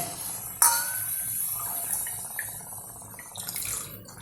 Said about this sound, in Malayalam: നാല് കപ്പ് പാലൊഴിക്കാൻ പോവാണ്